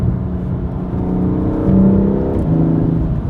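A BMW F87 M2 Competition with full bolt-on modifications accelerates hard, its engine droning loud and steady in a rising, revving pull that continues without voices.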